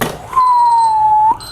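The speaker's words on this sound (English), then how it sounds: "that beeping means that my frittata is finished" An oven timer signals a finished frittata with a single sustained electronic beep, loud and close, lasting about a second, with a faint click just before it.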